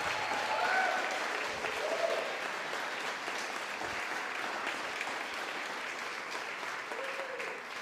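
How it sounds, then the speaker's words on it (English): A large audience applauds community members standing at a school district meeting, giving sustained, dense clapping that stays steady and fairly loud throughout with no talk. "Can we have all of you stand up one more time and face our community for another round of applause?"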